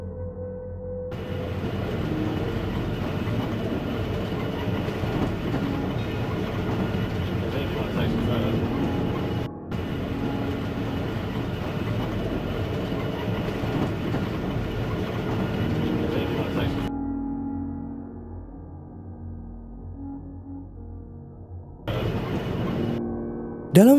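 A steady low rumble and rattle of a train in motion through hilly country, heard from inside at the window, fills most of the recording, cutting out briefly and then returning.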